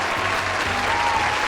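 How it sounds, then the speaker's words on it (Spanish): Dense, steady audience applause for a guest on a cooking show, a continuous crowd of clapping hands, fairly loud and unbroken, with faint music beneath. "vamos a dar un aplauso a Ignacio Galán"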